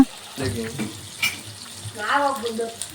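Tomato pieces fry in a pan with a close crackling sizzle and intermittent stirring scrapes, rising and falling over a few seconds.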